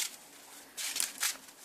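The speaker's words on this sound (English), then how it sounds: "Then shuffle my deck." A deck of Cardfight Vanguard cards shuffled by hand, heard as soft riffling bursts that swell twice near the end of a short, quiet stretch.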